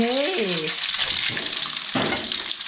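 Food is dropped into hot oil and sets off a loud, continuous close sizzle and fizz that lasts to the end, with a brief voice near the start.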